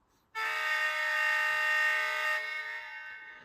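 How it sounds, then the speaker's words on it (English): A single sustained horn blast from a LokSound sound decoder in a Rapido Comet model train cab car, bright and chord-like, sounding for about two seconds before trailing off. "I'm going to go ahead and blow the horn"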